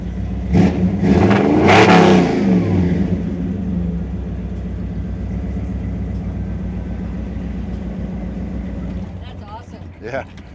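A 1959 Chevrolet's engine revs hard and loud near the start, its pitch climbing and falling, then settles into a steady, rumbling idle for the rest of the time.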